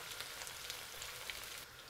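Onion hitting hot oil with browned chicken pieces in a pot for Uyghur chicken plov, giving a steady, fairly quiet broadband sizzle and crackle throughout, with no talking.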